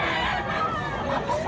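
A gamecock rooster at a market gives a brief clucking call amid a noisy crowd.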